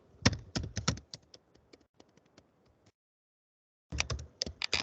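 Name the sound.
typing a password on a computer keyboard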